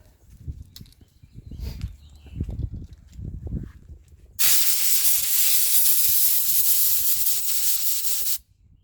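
A loud, steady hiss of compressed air blasting into damaged head bolt threads after a Time-Sert repair, lasting about four seconds before cutting off abruptly, preceded by quieter clunks and handling noise.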